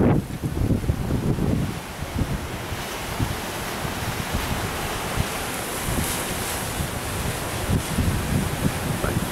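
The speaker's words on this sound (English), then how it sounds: "Comes one more gust." Strong wind roars through a storm in Laughlin, Nevada, buffeting the microphone with a broad, rushing gust that swells and churns steadily throughout, with no voices.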